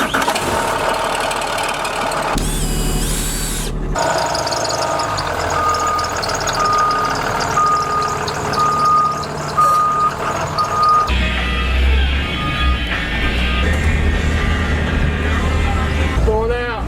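A bus engine cranks and catches, then idles and rumbles loudly while a steady train of reversing beeps pulses over it as the vehicle backs up, with heavier low engine roar coming in later.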